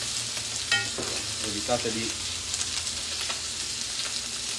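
Sardines frying in a pan make a steady, close sizzle and crackle, with a few clinks of stirring or handling and one short spoken word.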